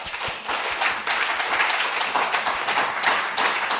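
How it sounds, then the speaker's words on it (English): A university computer science lecture audience gives a round of applause, scattered individual claps tapping in an uneven, moderately close patter that stays fairly even throughout. "one more round of applause for Asin."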